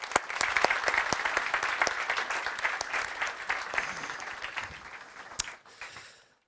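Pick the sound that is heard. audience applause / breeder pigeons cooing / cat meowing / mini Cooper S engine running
audience applause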